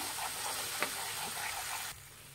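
Thick cornflour-thickened egg batter is stirred in a pan over medium flame, giving a soft continuous sizzle with a few faint scrapes of the spoon, quiet and unaccompanied.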